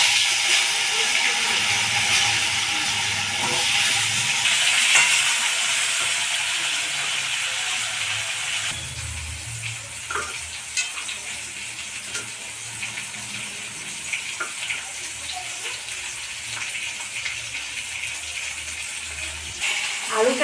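Soaked potatoes dropped into a hot wok with cumin tempering sizzle with a steady, fairly loud hiss that eases a little after a few seconds, punctuated by occasional clicks and clatter.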